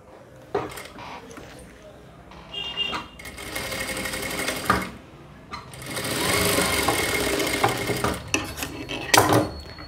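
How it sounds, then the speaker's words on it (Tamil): A sewing machine stitches a blouse armhole in several bursts of fast, steady mechanical whirring, with short pauses and clicks of handling between runs. "ஊக்குக்கு டபுள் ஃபோல்ட் பண்ணி மேல் பக்கமாக வச்சு ஸ்டிச் பண்ணிடலாம்."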